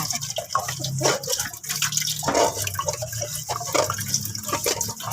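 Tap water runs and splashes continuously while tube-feeding equipment for a patient is rinsed and washed by hand, with intermittent clatter of the items under the stream.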